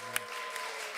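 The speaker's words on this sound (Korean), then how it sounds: "네, 박수로 우리 환영하겠습니다." A church congregation claps to welcome a returning member during a Sunday service, a faint, brief, steady patter of applause heard from a distance.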